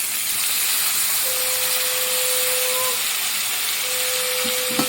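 Washed lentils (dal) fry dry in a pan with turmeric and salt, giving a steady, even hiss throughout, with a faint thin whine running through parts of it.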